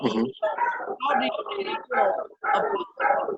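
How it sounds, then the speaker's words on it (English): A person talks in a room while the household dogs bark in the background, making a commotion that sounds muffled and somewhat distant under the speech. "sorry for my dogs out there. They're causing quite a ruckus right now."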